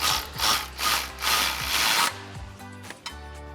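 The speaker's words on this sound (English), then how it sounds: "So once again with our 14mm socket, come in, get those tight." A ratchet driving a 14mm socket tightens steering stabilizer bolts on a Ford F-250 with a SuperLift dual stabilizer kit, giving several bursts of close, rapid clicking with brief pauses, then quieter metallic clicks and knocks.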